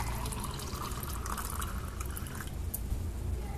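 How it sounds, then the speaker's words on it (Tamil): Lemon juice is poured into a glass as a short, steady liquid stream, close and continuous for a few seconds, with no talking. "இதில் இந்த லெமன் ஜூஸை ஊற்றணும்"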